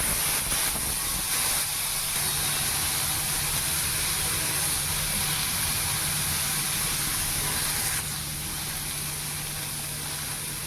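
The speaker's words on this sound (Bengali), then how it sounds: "একটা শুকনো লঙ্কা আর একটু সর্ষে ফোড়ন দিলাম, তারপরে যে জলপাই কেটে ধুয়ে নিয়েছি এখন এই যে দিয়ে দিলাম" Cut, washed olives go into hot oil tempered with a dried red chilli and mustard seeds for olive chutney, setting off a loud, steady hiss that carries without a break and eases slightly near the end. No one speaks.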